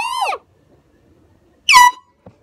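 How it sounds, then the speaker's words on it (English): Two very loud blasts from a handheld air horn, a strong harmonic tone stuttering briefly at the start, then a second blast after a pause of silence, with a tiny chirp at the end. "this air horn, is it really the air horn that's doing that?"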